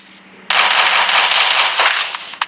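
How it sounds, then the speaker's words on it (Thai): Rapid automatic gunfire from the video game Free Fire erupts suddenly and rattles on in a dense, loud burst for about two seconds before trailing off into a few scattered shots. "เบอร์หนึ่งก็ได้ทำการยิงมาแล้ว"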